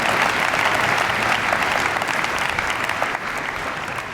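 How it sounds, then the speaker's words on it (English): A comedy-show audience breaks into a big round of applause, dense and loud clapping from a sizable crowd that holds steady and fades only slightly toward the end. "Give him another big round of applause"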